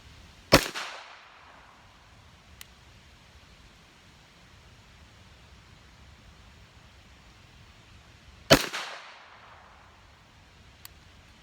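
Two sharp, isolated pistol reports from a first-generation Walther P22 firing CCI Mini-Mag .22 rounds outdoors, spaced about eight seconds apart, each a brief crack with a short decaying tail over a quiet background.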